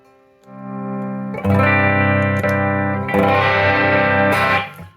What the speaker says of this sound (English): So that's the overdrive.